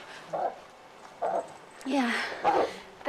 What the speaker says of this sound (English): So that's the dog.